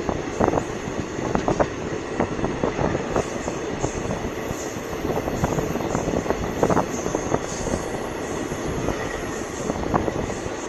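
The Dooars Express 15767 Alipurduar Junction intercity train runs steadily through forest at dusk, a continuous rumble of wheels on rails with rhythmic clacks over joints, heard from on board.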